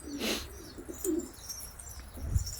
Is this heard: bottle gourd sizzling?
no